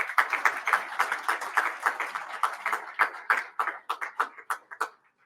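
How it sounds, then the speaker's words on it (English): Scattered applause from a small seated audience at a morning military industry coffee event, claps clearly separate and fairly close, thinning out over about five seconds into a few last isolated claps. "Let's give them a big round of applause."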